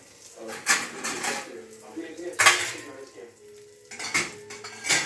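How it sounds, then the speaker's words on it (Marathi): Metal pots, pans and cutlery clatter and clank in a home kitchen as dishes are gathered for washing, with sharp irregular knocks and scrapes close by and a voice talking between them. "हे बघा भांडे किती पडलेत, आता भांडे घासायचे"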